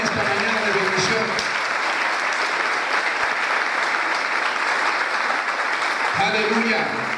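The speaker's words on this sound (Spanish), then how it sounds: "Aplaude al Rey en esta mañana de bendición" A church congregation claps steadily and loudly for several seconds, with a voice speaking over the applause at the start and end.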